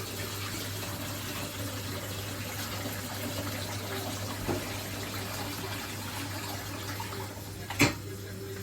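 Water runs and splashes steadily into a cooking pot under a constant low hum, with a light clink near the end.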